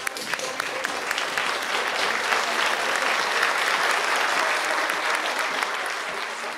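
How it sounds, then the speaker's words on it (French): Audience at a fashion show applauding a couturière welcomed onto the stage, a thick continuous round of clapping from a large crowd that stays loud throughout. "Je vous demande un tonnerre d'applaudissements pour Int."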